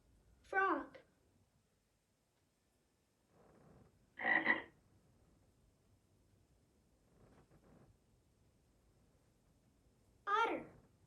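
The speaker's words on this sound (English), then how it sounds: "Frog." Frog croaks come in three short, clear bursts spread apart, separated by quiet gaps with faint background murmurs.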